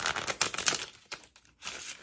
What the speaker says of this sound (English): Okay, I've shuffled it three times.